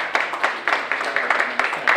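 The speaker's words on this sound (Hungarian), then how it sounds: "egy nagy tapsot kérünk Kirának" Applause for a student receiving a special award at a school prize ceremony, a crowd clapping steadily with bright overlapping claps and a few sharper accents throughout.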